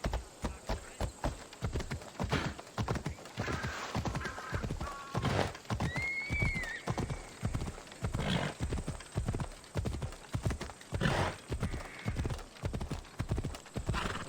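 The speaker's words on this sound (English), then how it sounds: "Here, horsey. Ride, Phobos!" A horse in Assassin's Creed Odyssey trots with steady, rhythmic clip-clop hoofbeats throughout, broken by a couple of clear whinnies and neighs midway, fairly close and moderately loud.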